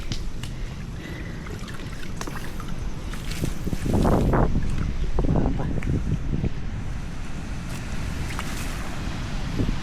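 Strong wind gusting outdoors near water, a steady loud roar with heavier gusts through the middle, while voices talk over it now and then.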